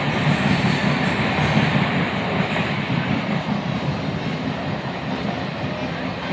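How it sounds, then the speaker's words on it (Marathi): A train coming from Karjat passes close by with a loud, continuous rumble and rattling wheel clatter that holds steady throughout. A faint high squeal rides over it, and no voices are heard. "हे कर्जतवरून आलेली ट्रेन आहे"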